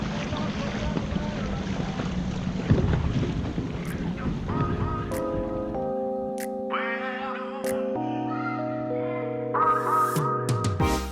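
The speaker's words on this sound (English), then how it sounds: "Our dinghy motor is running right now." A dinghy outboard motor running at full throttle on the water roars as a loud, rough drone under wind noise for several seconds, then sustained musical tones take over.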